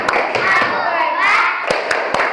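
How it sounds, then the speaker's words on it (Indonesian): Schoolchildren in a third-grade class clap together in a sharp rhythmic pattern, several distinct claps cutting through lively children's voices and chatter around them. "Oke, tepuk tangannya lagi mana? Tepuk kelas"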